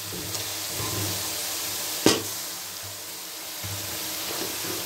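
Tomatoes sautéing in oil in a cooking pot, a steady close sizzle with one brief sharp clatter midway, no voices over it.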